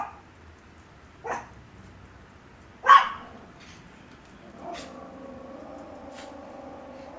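A small dog, a poodle, gives a few sharp separate barks at moderate distance, followed by a softer, sustained whine-like sound.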